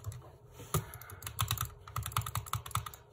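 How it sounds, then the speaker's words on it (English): Rapid butterfly clicking on the large buttons of a Glorious Model D gaming mouse: close, crisp clicks in quick irregular bursts, with no talking. "I'm able to butterfly click because these are actually pretty big mouse buttons."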